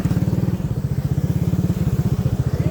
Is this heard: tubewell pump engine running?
yes